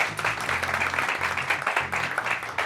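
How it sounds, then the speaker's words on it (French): Audience applauding a volunteer assistant at a live show, a dense burst of clapping filling the room continuously for a few seconds. "On peut l'applaudir bien fort s'il vous plaît."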